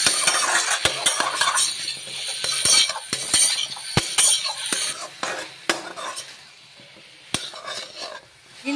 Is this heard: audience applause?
no